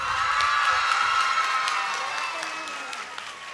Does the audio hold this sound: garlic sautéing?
no